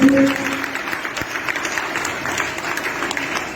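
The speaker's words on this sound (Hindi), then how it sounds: "Can we clap for Jesus?" A church audience claps together during a sermon, a loud, dense burst of applause that swells at the start and then continues steadily with some crowd noise mixed in.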